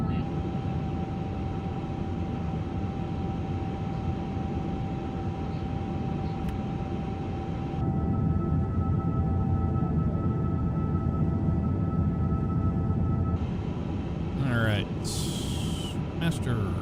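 An Airbus A350 in Microsoft Flight Simulator rolls down the runway for takeoff, its engines a loud steady roar that swells partway through, with a beep near the end.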